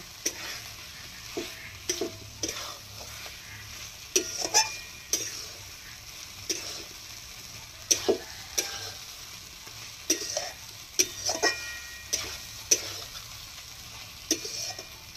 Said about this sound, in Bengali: পটলগুলো দিয়ে আমি খানিকক্ষণ কষতে থাকবো।